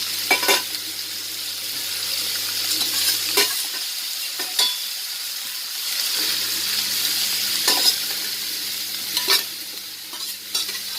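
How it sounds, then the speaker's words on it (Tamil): Steady sizzling of dried anchovies frying in hot coconut oil, close up, with occasional stirring clinks and scrapes against the pan. "கருவாடை தேங்காய் எண்ணெய் போட்டுடலாம்."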